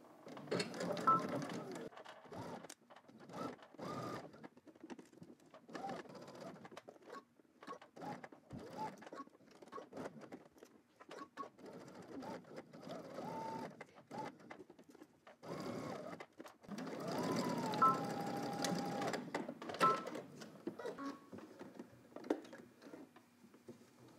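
A sewing machine stitches a seam, backstitching at the start and end, running in short bursts and longer steady runs with brief pauses between, close and moderately loud.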